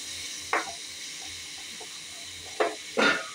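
Grated chayote tipped into a hot pan in a home kitchen, sizzling and frying with three short bursts of hiss as it lands and is stirred over a low steady background.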